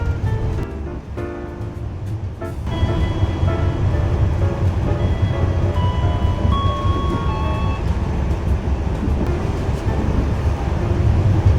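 An Anggrek passenger train runs on rails between Surabaya and Cirebon, heard from inside the carriage as a loud steady low rumble, with faint tones and clatter near the start.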